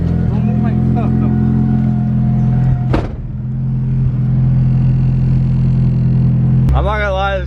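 A turbocharged car engine rumbles loudly and steadily at close range, with a sharp transient near the middle and a rising rev at the end, while people talk over it.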